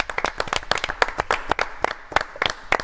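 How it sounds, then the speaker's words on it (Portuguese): Clapping in a Brazilian football talk show studio, saluting the women watching: crisp, distinct handclaps in a quick irregular rhythm, close and fairly loud, with no talk over them. "Palmas para as mulheres que nos assistem."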